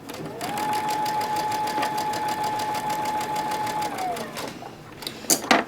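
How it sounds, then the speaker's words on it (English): A sewing machine stitches quilt block pieces in one steady motorized run of about three and a half seconds, close and fairly loud. It winds down and stops, followed by a few faint clicks and handling noises. "Now we're going to sew it together."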